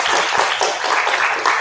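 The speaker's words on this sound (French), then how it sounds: "Je pense que vous méritez quelques applaudissements." An assembly audience at a talk on representative democracy and the right of petition gives the speaker a round of applause: loud, dense, continuous clapping filling the whole moment.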